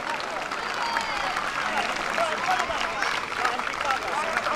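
A crowd claps steadily throughout at an outdoor Basque strongman competition in Saint-Palais, and voices carry along underneath.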